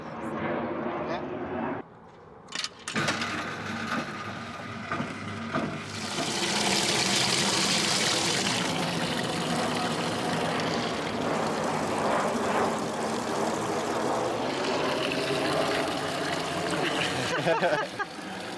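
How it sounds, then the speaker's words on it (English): A narrowboat's toilet is pumped out at a marina, with a steady rushing, gurgling flow of waste and water that builds and runs continuously while a voice talks over it. "here we are at the pump out"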